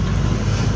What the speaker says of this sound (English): So that jet was very specifically routed to come over to the Salton Sea here, or the Coachella Valley